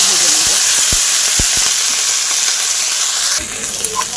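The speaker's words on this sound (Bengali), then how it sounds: "এবার এই সবজিগুলো আমি ভেজে নেব।" Vegetables for a cauliflower dish frying in hot oil in a home kitchen, a steady close sizzle throughout with a few soft clicks of stirring, easing slightly near the end.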